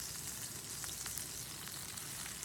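Cheeseburgers frying on a small stove, a steady quiet sizzle with faint crackles running throughout, no talking.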